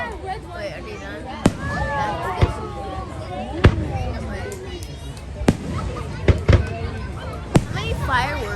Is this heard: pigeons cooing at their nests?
no